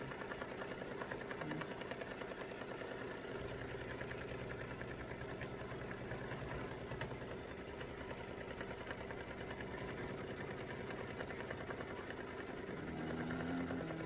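An embroidery machine stitches steadily for the whole stretch, a close, even mechanical whir with rapid needle ticking and a slight shift in pitch near the end. It is stitching a baseball tic tac toe game set, and nobody speaks.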